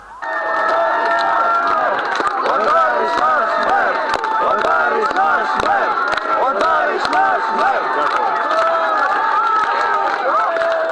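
A crowd of protesters outside a court hearing loudly shouts and cheers as the plaintiff arrives, a dense, continuous roar of many voices with overlapping calls, sustained and close.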